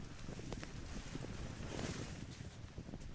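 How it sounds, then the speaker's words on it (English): Steady wind rushes and buffets across an outdoor minigolf course during a youth world championship strokeplay event, a continuous broadband roar with microphone wind noise and no talking. "Wind has picked up,"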